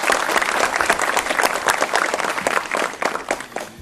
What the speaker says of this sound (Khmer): សូមអបអរសាទរ